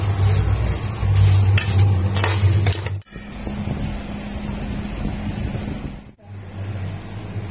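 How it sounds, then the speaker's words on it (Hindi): Ghee poured into hot sugar syrup sizzles loudly while being stirred for matanjan rice, a bright crackling hiss that cuts out briefly twice, then resumes. "एक पाव के करीब हमने इस तरह से घी ऐड कर दिया है।"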